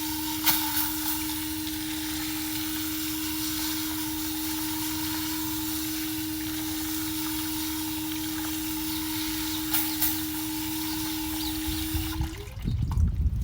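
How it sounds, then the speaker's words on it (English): Tap water runs steadily over potted plants as dirt is rinsed from them during repotting, a continuous close splashing stream with a low hum underneath that stops abruptly near the end. "I'm gonna rinse them, and then I have another tap there, so we're gonna transfer over"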